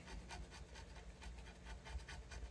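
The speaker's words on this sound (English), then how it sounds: "Using one of these little scraper tools." Small hand scraper rasping old glue off the headstock of a 1970 Gibson Les Paul Deluxe, a steady run of close, dry scratching strokes repeating in a quick rhythm with no talk.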